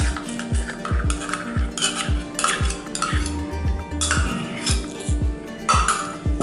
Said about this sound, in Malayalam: നന്നായിട്ടൊന്ന് മിക്സാക്കി കൊടുക്കാം